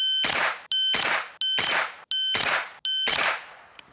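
An AR rifle fires five sharp, loud shots in an even rapid rhythm, each crack trailing off into a brief ringing decay, outdoors with no talking.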